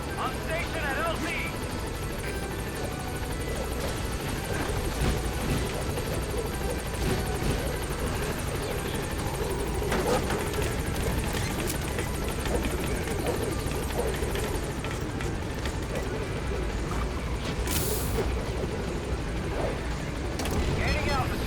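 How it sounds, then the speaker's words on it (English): The Pequod helicopter arrives at a landing zone in Metal Gear Solid V: The Phantom Pain, its loud rotor drone continuous and close throughout, with voices talking over it. "Alright, Pequod, get me out of here. This is Pequod. On station at LZ"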